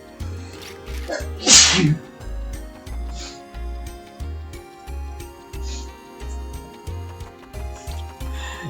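A single loud sneeze bursts out near the start, over a steady rhythmic mechanical thumping that continues throughout.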